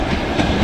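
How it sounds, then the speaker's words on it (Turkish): A train rolling along rails near the Caspian coast in Dagestan, a steady continuous rumble with a faint rhythmic clatter, close and fairly loud, with no talk over it. "işte tren böyle"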